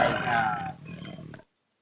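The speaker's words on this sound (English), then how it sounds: "We have already hearing the roar of the tiger." A tiger gives a loud, deep roar that lasts under a second, trails into a lower rumbling growl, then cuts off into silence.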